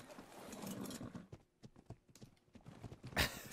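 Horse hooves clip-clop in the video game ARK, a run of quick, moderately loud hoofbeats in a steady gallop rhythm, with a brighter burst near the end.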